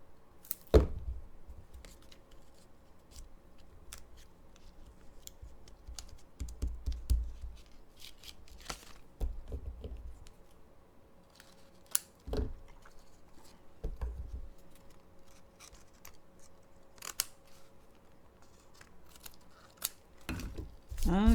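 Scissors trimming decorations for homemade floating and spinning Christmas cards, heard as a series of sharp, close snips scattered at irregular intervals over a quiet background.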